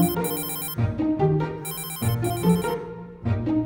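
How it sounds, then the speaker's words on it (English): A telephone rings in repeated bright electronic trills, alternating bursts and short gaps, loud and clear with a musical tone underneath and no talking. "Then the phone rang."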